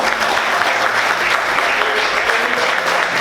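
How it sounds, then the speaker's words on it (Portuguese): Steady, dense applause from a church congregation fills the whole moment, continuous and fairly close without pause. "Vamos aplaudir Jesus,"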